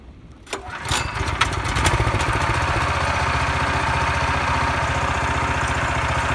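A BRAIT BR-135GEDS walk-behind tractor with a four-speed forward, one-reverse gearbox drives along, its small single-cylinder engine chugging loudly and steadily close by, rising in revs at the start and then holding an even throb.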